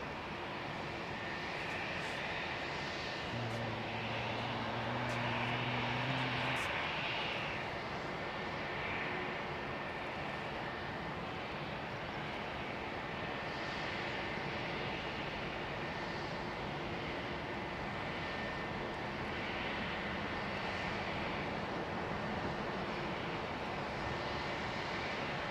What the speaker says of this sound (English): Oh, Singapore go around, #1 most tracked on flight radar.